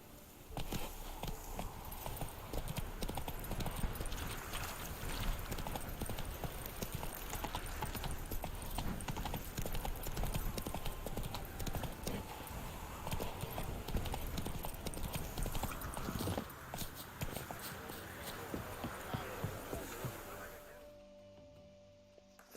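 Roach the horse walks in The Witcher 3 with a steady clip-clop of hooves, close and continuous for about twenty seconds over game ambience, then the hooves stop and a quiet tone is left.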